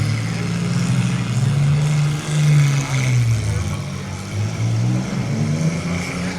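A loud, overheated race car engine drones and revs unevenly, shifting pitch up and down, with talking underneath, at a county fair crash-car event.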